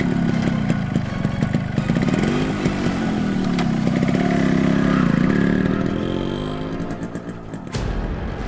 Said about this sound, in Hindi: बाइक स्टार्ट कीजिए।